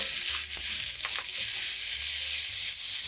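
Onions sizzle loudly in a freshly oiled pan right after ground beef has been taken out, a dense continuous frying hiss with faint stirring scrapes underneath and no voices.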